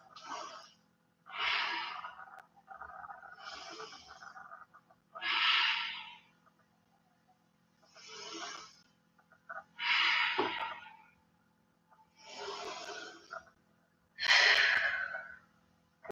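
Deep, full breaths held in a wide-legged yoga stretch: about eight separate airy rushes, alternating inhales and exhales every couple of seconds, close and moderately loud, with brief quiet gaps between them.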